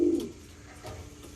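Racing pigeons cooing as they come home from a 150-mile race, a soft low coo near the start followed by faint rustling and ambient noise.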